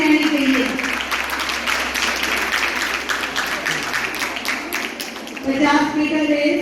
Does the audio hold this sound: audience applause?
yes